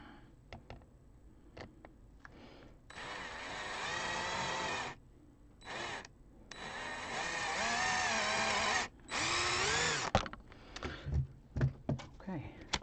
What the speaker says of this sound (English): I'm going to try to just hold these together and drill through both of them